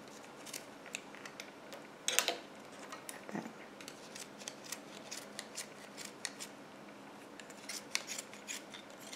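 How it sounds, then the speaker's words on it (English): Small embroidery scissors snip through a yarn pom-pom in a series of close, crisp clicks and snips, irregularly spaced with quiet pauses between cuts. "you can see how the embroidery scissors just fit nicely down the center. Then you take and turn and cut the opposite side."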